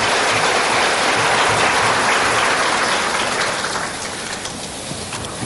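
Rain pours steadily over an outdoor gathering at a 1976 Gnostic congress, a dense, loud, continuous hiss that eases a little toward the end, with no voices.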